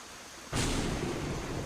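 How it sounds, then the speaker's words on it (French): A thunderstorm in the video game Skyrim: a sudden rumbling crack of thunder breaks in and rolls on under steady heavy rain noise. "Ça, c'est de l'orage."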